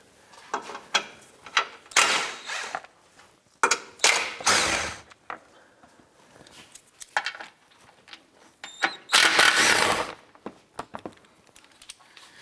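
A 15mm socket ratchet loosens the steering rack cover screws under a 2007-2014 Cadillac Escalade, with repeated bursts of rapid clicking between short pauses, close and fairly loud.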